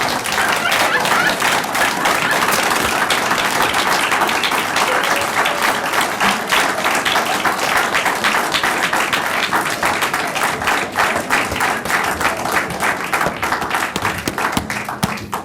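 Sustained, vigorous applause from a large audience rolls on without pause after a university legacy lecture, dense and loud, with individual claps crackling through the wash.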